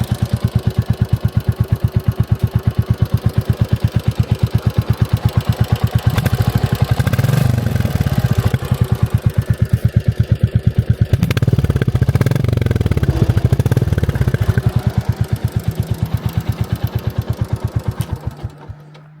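Close, loud idle of a Royal Enfield Classic 350 motorcycle: the single-cylinder engine thumps in a steady, fast even rhythm with a metallic clatter, running continuously with slight swells before cutting off near the end.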